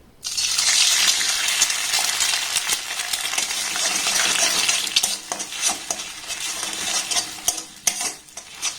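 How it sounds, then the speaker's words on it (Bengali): Egg stirred and fried in oil in a kadai, sizzling steadily up close, with the scrape and clink of a spatula against the metal pan in repeated strokes. "এবার ডিমটাকে একটু নাড়াচাড়া করে ভেজে নেব।"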